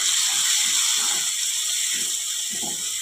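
Green chili and garlic paste sizzles in hot oil with cumin and asafoetida for a vegetable dish, a steady broad hiss with soft irregular crackles and pops throughout, close and continuous.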